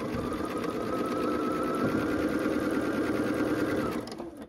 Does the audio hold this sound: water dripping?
no